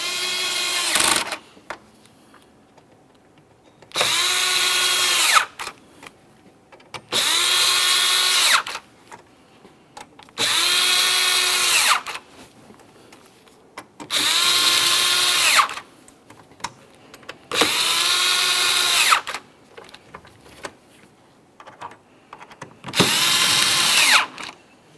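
Upper mounting hardware on a 2017-2024 GMC Acadia radiator is tightened with a power drill: seven loud, evenly spaced whirring bursts of about a second or two each, separated by quiet gaps, with no talking.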